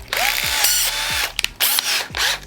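A power drill fitted with a 9/64 bit spins up and bites in short repeated bursts with pitch sweeps, close and loud, while wiring an amp rack in a Nissan Titan.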